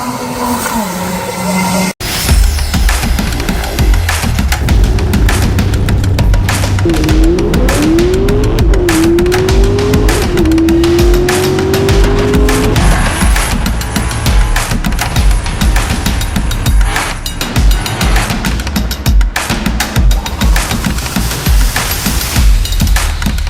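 A Dodge Viper race car at Orlando Speed World drag strip roars loud and close, engine revving hard with a rising pitch sweep and tire noise, continuous and powerful throughout after a brief quieter start.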